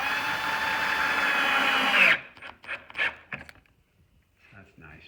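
A power drill whines steadily as it drives 1-inch screws into wooden mantle molding, stopping after about two seconds, followed by quieter handling and a few light knocks.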